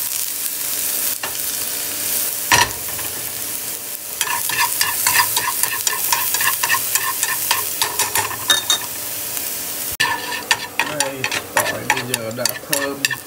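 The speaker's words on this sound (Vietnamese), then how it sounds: "Chiên cho nó vàng luôn rồi sẽ đổ vô" Garlic frying until golden in a pot for chicken noodle soup, a steady crackling sizzle with stirring scrapes and clinks, loud and close, with no talking.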